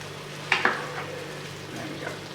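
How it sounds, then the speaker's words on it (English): Pasta sauce sizzles gently in a pan under a steady hiss, with a couple of sharp utensil scrapes from a quick stir near the start, then soft bubbling. "Give that a quick stir."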